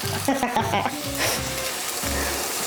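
Food searing on the flat side of a hot cast iron pan, a steady close sizzle with brief clatters and stirring sounds, no talking.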